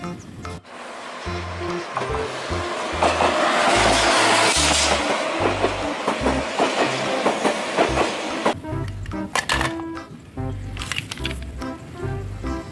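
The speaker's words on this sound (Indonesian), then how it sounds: "kereta cepat" A toy high-speed train runs loudly along its track with steady rattling and squeaking over a busy musical backdrop, then the sound drops away partway through while the music continues alone.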